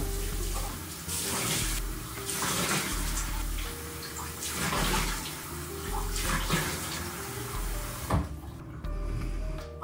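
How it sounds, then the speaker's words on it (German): Cold water runs from a tap without a break while someone washes their face in a bathroom, splashing and rising and falling in strength, with a brief knock near the end. "jetzt gerade habe ich kaltes Wasser verwendet"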